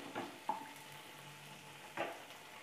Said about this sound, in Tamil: இப்போ நல்லா வதக்கியாச்சு.